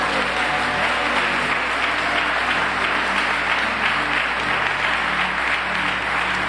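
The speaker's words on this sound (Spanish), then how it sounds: "Un aplauso a Jesús" A church congregation claps steadily and loudly throughout, a dense, continuous wash of applause with no pauses.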